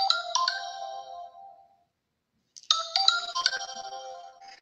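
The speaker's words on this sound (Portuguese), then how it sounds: "Desculpa, meu telefone está fazendo barulho." A mobile phone ringtone plays a bright electronic melody twice, with a short silent gap between bursts, clear and fairly close during a quiet ceremony.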